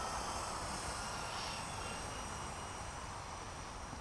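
A small Blade 120 S2 RC helicopter flying outdoors over a road, its steady, even whir continuous and fairly faint, broad and airy against outdoor ambience with no speech.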